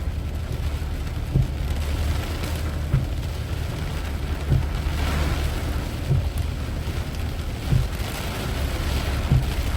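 A heavy rainstorm pours down in Vientiane, Laos, as a dense, steady hiss of rain with soft low thumps recurring at regular intervals throughout.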